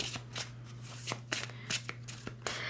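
Tarot cards shuffled and drawn by hand during a reading, a run of crisp riffling flicks and soft slaps repeating at an uneven pace, close and fairly quiet over a faint steady hum, with no talking.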